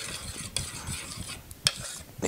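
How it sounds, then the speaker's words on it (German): Sweet potato mousseline with truffle oil being stirred in a pot, giving soft scraping and swishing with a few light utensil clicks, faint and close, with no voices. "Nochmal gut verrühren,"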